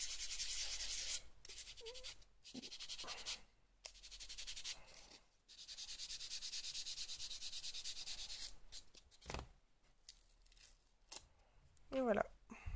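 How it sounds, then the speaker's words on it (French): A sanding block scrapes across an art journal page in repeated, close, raspy strokes separated by short pauses, fairly faint. "donc du coup je vais prendre mon bloc à poncer"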